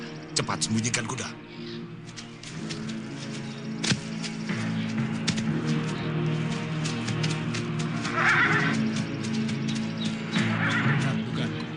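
Horses whinny sharply several times among faint hoof clops in an open outdoor scene from a period drama set on the Merapi mountain, with overlapping dialogue and background music underneath.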